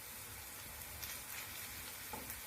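A batter of grated vegetable, onion, flour and egg fries in a pan, giving a steady, dense, close sizzle with soft crackles throughout and no voices.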